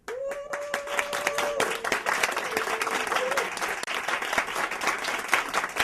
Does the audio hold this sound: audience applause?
yes